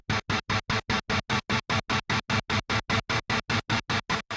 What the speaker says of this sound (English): It's an 8-note square-shaped tremolo,